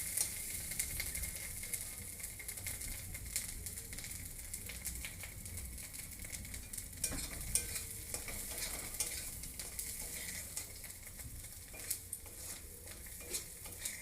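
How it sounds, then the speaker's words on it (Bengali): Yardlong bean paste frying in plenty of oil in a wok gives a quiet, continuous sizzle, with faint stirring and scraping of utensils against the pan throughout. "আমার কড়াইতে দেখেছেন তেল চুপচুপ করছে,"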